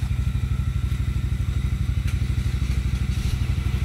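A car engine runs after being jump-started from a Honda Forza 350 scooter, a loud close rapid rhythmic chugging of even pulses that holds steady throughout.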